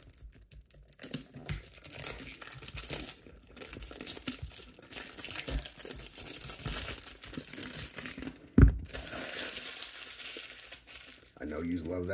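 Cellophane wrapper being torn and crumpled off a perfume box, loud close crinkling and tearing in continuous bursts with one sharp rip near the end.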